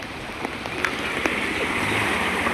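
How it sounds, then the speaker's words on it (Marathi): Water flowing with force around a flooded farmhouse, a steady broadband rush with a few splashy clicks, fairly close and continuous throughout. "भाई फोर्स आहे पाण्याला."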